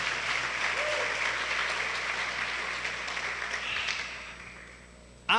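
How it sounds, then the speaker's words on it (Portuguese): A church congregation gives a round of applause, a loud dense clapping that gradually thins and fades, then ends in a brief sharp knock. "Dá uma salva de palmas para eles, irmãos."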